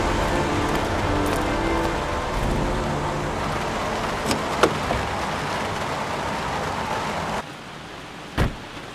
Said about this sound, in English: Let's get out of the pouring rain.